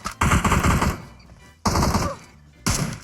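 Gunfire in the mobile shooter PUBG Mobile: three loud, close bursts of rapid automatic shots separated by short pauses, with no voices.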